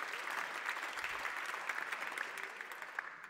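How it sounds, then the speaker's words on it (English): An audience at a Lions Club event at the United Nations in Vienna applauds the winners of a poster contest, a steady dense patter of many hands heard from a moderate distance with no voices over it. "please give a round of applause to that"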